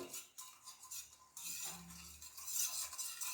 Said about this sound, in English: Add sugar. Mix well.